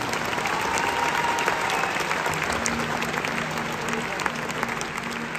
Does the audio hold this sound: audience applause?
yes